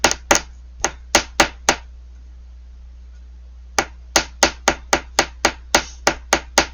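Sharp metallic taps of a hammer on soft copper wire for necklace chain, struck in short steady series, with a quiet pause in between and a low hum underneath.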